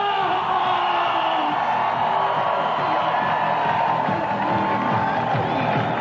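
A large crowd cheers, whoops and yells as a fighter is introduced at a combat event. The roar stays loud, dense and steady for the whole stretch.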